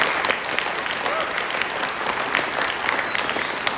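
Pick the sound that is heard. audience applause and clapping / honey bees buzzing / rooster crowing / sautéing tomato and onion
audience applause and clapping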